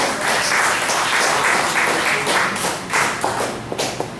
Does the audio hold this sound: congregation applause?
yes